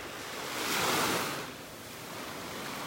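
Small ocean waves washing onto a beach in North Naples, Florida, a soft hissing surge that swells and fades once, steady and fairly close, with no voices.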